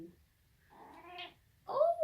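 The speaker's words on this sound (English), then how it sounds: "otherwise she will really start meowing" A pet cat meows twice at close range, a short rising-falling cry followed after a pause by a louder, longer meow, with no talking.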